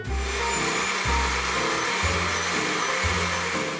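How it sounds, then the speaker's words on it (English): A blender blending paneer tikka masala sauce runs with a loud, steady motorized whir, its tone pulsing roughly once a second as it churns the sauce. "Add to the blender and blend until it's smooth."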